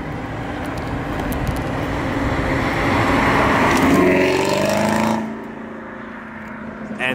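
Chevrolet Camaro ZL1 1LE in white creeping past at low speed, its engine and exhaust a deep, building rumble that swells loudly before cutting off sharply, leaving a quieter idle-like tail.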